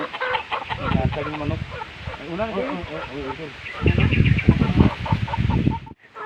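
Chickens clucking close by on a farm, a busy run of short repeated calls with people talking over them and other farmyard noise underneath.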